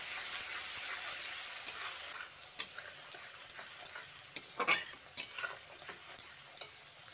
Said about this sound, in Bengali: পেঁয়াজটা দিয়ে হাই হিটে ভালো করে ভেজে নিচ্ছি